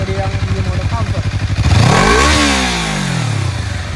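Close, loud revving from a Honda CBR 250 RR motorcycle with its stock exhaust: a pulsing idle builds into a sharp throttle blast that peaks and then winds down in a long falling whine.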